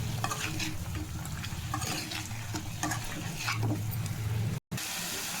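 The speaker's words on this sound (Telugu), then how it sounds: "ఒకసారి కలిపేసుకోవాలి" Fish head curry with raw tamarind, mixed with chili powder, turmeric and salt, is stirred in a pot with repeated scraping strokes over a low simmering sizzle, close and continuous, with a brief dropout near the end and no voices.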